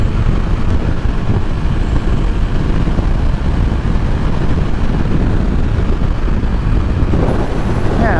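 Honda Rebel 300 motorcycle cruising at 65 mph in sixth gear on the highway, a steady loud roar of wind and engine, unbroken throughout with no talk.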